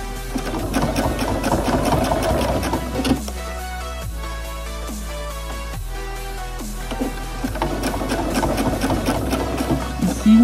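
A sewing machine stitching a hem on jeans runs in fast rhythmic bursts, slows to a few separate stitches in the middle, then speeds up again, close and clear with no talking.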